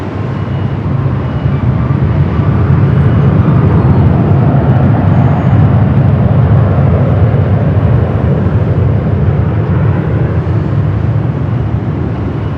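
A United heavy jet bound for Tokyo Narita roars down runway 24 left at Los Angeles International Airport. Its loud, steady, broadband engine rumble holds for about twelve seconds with no voices.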